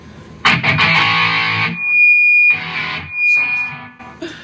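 Heavy distorted electric guitar chords from a Kramer VT-211S played through a distortion pedal, loud and close, struck in three bursts with a sustained high feedback-like tone ringing between them.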